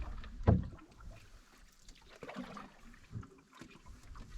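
A canoe is paddled on a calm lake in Quetico, with soft close water swishes and dips from the paddle, light wind noise and no voices.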